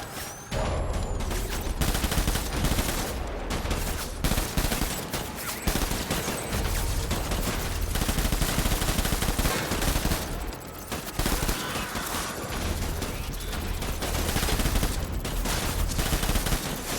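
Dense, sustained gunfire from the video game Death Stranding, with rapid bursts and volleys of shots running nearly continuously at steady loudness, with no voice over it.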